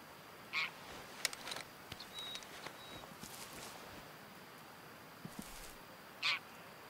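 A greylag goose honks in the hunting game Way of the Hunter, two short honks set well apart and heard at a distance over quiet outdoor ambience.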